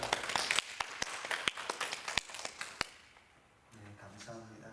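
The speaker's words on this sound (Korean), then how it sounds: "우리 큰 환영의 박수 한번 부탁드리겠습니다." Church congregation clapping to welcome a visitor during Sunday worship: a short burst of scattered, uneven claps, fairly close, that fades after a few seconds into quiet room sound with murmuring voices.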